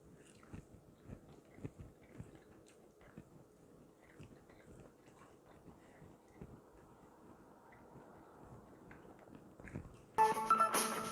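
Close, crunchy bites and steady chewing of a keto bacon, egg and cheese breakfast muffin, with soft mouth sounds repeating for about ten seconds before a louder burst of noise at the end.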